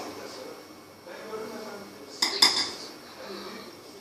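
A spoon stirring soup in a cooking pot, giving a couple of brief metallic clinks against the pot beneath ongoing conversation.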